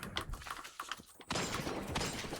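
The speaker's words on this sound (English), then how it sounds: "I hear gunshots on my left." Gunfire in the video game Destiny 2 during a Clash PvP match, a cluster of sharp shots at first, then denser sustained fire, moderately loud.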